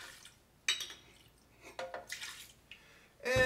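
Vodka, two ounces, poured into a blender: short splashy trickles and glassy clinks in several bursts, close and fairly quiet, ending in a louder splash.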